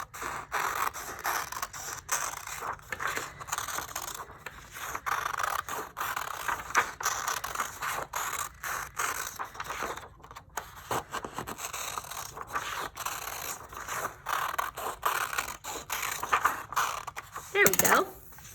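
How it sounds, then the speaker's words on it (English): Scissors snip through a large paper pumpkin shape for a craft, a steady run of close, crisp cutting and scraping sounds that continues for most of the stretch. "Then I'm going to get my scissors and I'm going to cut it out where I drew my line."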